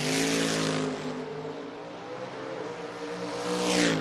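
Drag racing cars, one a Camaro, rev and roar down a footbrake race strip, the engine note rising and fading as the cars pass at a moderate distance.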